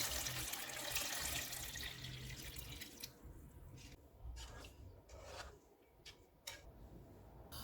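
Water pours into a pot of plums and sugar for plum juice, first as a steady rushing stream, then breaking into splashes and trickles near the microphone.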